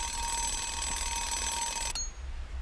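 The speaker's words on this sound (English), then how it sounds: "Alarm clock." An alarm clock rings with a loud, steady electronic tone for about two seconds, then cuts off abruptly, leaving low room noise.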